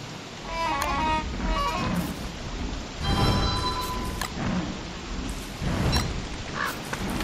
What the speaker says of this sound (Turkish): Abi bu şimşekler beni deli edecek ya.